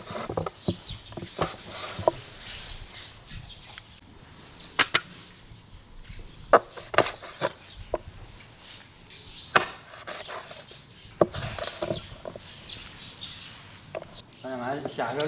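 Chicken feet are hacked with a cleaver on a stone table outdoors, giving a series of sharp, irregular chops, some loud and close, separated by quieter pauses and light background patter.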